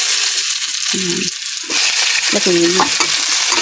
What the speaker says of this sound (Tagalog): Toasted ng ating bawang.